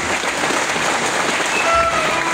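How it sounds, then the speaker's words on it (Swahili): A church congregation claps for its bishops, giving a continuous wash of loud applause from a crowd that holds steady throughout the short burst. "Tupigie maaskofu wetu makofi"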